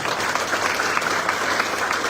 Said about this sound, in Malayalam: അവർക്കും നല്ലൊരു ക്ലാപ്പ് കൊടുക്കണം